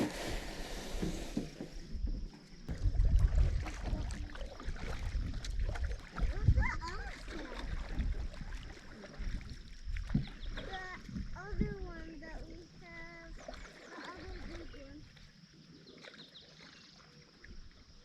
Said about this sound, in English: should make for some easy paddling, especially with a bit of current going